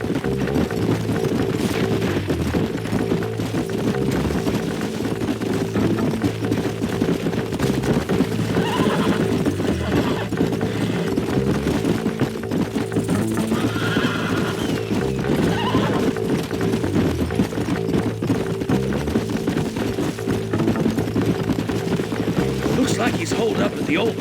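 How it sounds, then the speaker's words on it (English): Horses in the video game Red Dead Redemption: a horse whinnies and hooves plod steadily amid dense game ambience and music, with characters talking over much of it. "find a spot for our horses"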